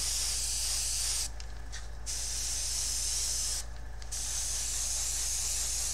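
An airbrush sprays metallic paint onto a 1:48 scale Tamiya Lockheed P-38H Lightning model, a close, loud steady hiss broken by two short pauses, over a continuous low compressor hum.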